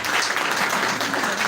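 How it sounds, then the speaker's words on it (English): Applause from the audience at a recognition ceremony fills the room, dense steady clapping sustained throughout at a loud, even level with no pauses. "I want you to give a very big round of applause"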